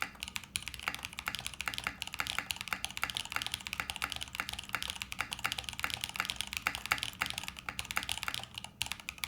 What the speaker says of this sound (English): let's see what PBT sounds like on the Smith & Rune Iron160